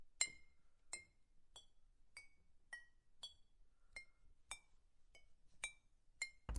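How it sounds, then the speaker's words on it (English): A teaspoon taps a glass again and again, about a dozen faint, bright clinks at a steady, slow rhythm in an otherwise quiet room. "A teaspoon softly tapping on the glass again and again."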